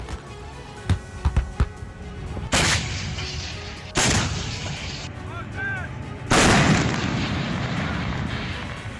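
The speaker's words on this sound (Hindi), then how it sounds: "देखिए किस तरह से रिहायशी इलाकों को निशाना बनाकर बमबारी की जा रही है।" Artillery shells hit residential areas in Donetsk, with a few distant thuds followed by three heavy, loud booming blasts that roll and rumble away between impacts.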